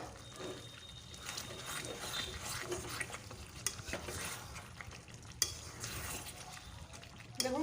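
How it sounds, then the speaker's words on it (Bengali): A pot of mutton curry is stirred with a spoon, giving soft continuous scraping and sizzling with a few sharp clinks of utensil against metal, close and fairly quiet. "2 মিনিট ঢাকা দেওয়ার পর আবারও ভালো করে ঢাকনাটা খুলে নাড়িয়ে চালিয়ে নেব।"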